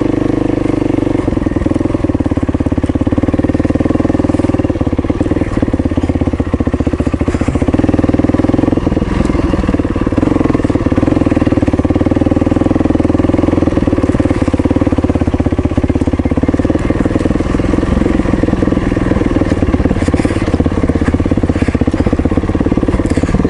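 Motorcycle ridden along a scenic route, a steady loud engine drone with continuous wind rush and road rumble throughout, no talk.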